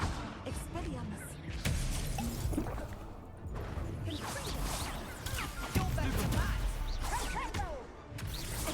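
Expelliarmus spell cast in Hogwarts Legacy: a sharp whooshing crack with whip-like snaps and crashing impacts, repeated through a busy, close-up stretch of game noise.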